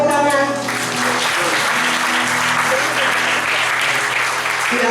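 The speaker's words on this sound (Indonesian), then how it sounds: "Tepuk tangan." A church congregation applauds at the close of a worship service, loud, dense clapping that holds steady for several seconds, with a sustained tone from the hall's sound system lingering underneath.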